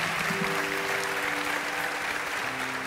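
Studio audience applauding on a Turkish television talk show, a steady dense wash of clapping throughout with a low hum and faint voices underneath.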